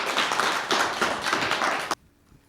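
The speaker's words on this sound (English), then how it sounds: "Let's give her a round of applause." An audience at a veterans community event claps in a dense, steady round of applause for about two seconds before it stops abruptly into near silence.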